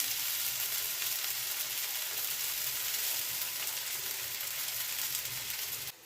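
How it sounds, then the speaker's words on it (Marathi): Green chillies and sago pearls fry in a pan for sabudana khichdi, giving a close, loud, continuous hissing sizzle that stays even for several seconds before cutting off, no talking. "मिरच्या थोड्याशा वाफरल्या की त्याच्यामध्ये आपण शाबू टाकू"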